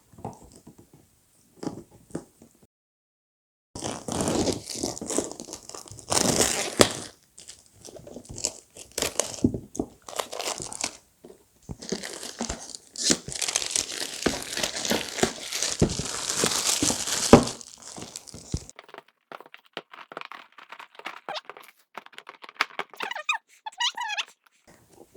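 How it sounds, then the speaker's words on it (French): Unboxing the Pandemic Cthulhu board game, a long stretch of close crinkling plastic wrap, tearing and squeaky cardboard handling, loud and busy in the middle, fading to quiet rustles, no talking. "On va donc procéder au déballage, on va l'ouvrir."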